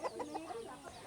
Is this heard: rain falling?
no